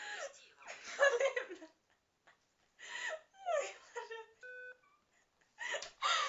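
A steady tone beeps briefly between bursts of laughter and chatter, with two short pitched tones stacked under a voice.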